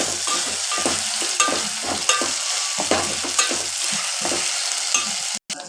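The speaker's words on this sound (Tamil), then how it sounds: "இதில் வந்து 2 தக்காளி, கொஞ்சோண்டு புதினா, ஒரு 4 பச்சை மிளகாய் சேர்த்து நல்லா குலைவாக வர அளவு வதக்கலாம்." Two tomatoes, a little mint and four green chillies are sautéed in a pan for chicken kurma, with a steady close sizzle and repeated scraping stirs throughout.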